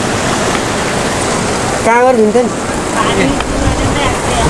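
A river in Nepal rushes steadily as a broad, continuous wash of water noise close by, with people talking over it.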